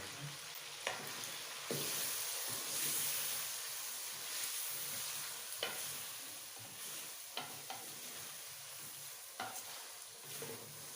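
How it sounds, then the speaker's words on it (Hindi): Chopped tomatoes sizzle in a hot pan for a chicken palak curry while a spoon stirs them, a steady hiss broken by occasional scraping clicks, close and moderately loud, no talking. "टमाटर हमने धो लिए, काट लिए, वो डाल देते हैं और इनको हिला देते हैं।"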